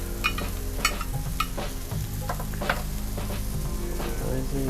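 Chicken with spring onions frying in a pan at a home dinner, a steady close sizzle with scattered clinks and scrapes of stirring, with no talking.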